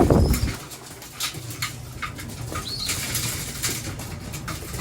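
Hungry young pigeons feeding close by, with soft coos, fluttering wing flaps and scattered calls over a steady rustling background.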